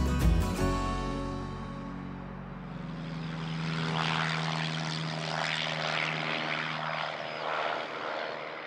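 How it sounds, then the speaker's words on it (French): A propeller airplane flies toward the west coast of the Cotentin peninsula, its engine drone building into a steady, fairly loud hum after a musical tail fades out at the start. "Un avion se dirige vers la côte ouest du Cotentin."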